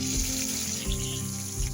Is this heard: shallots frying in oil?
yes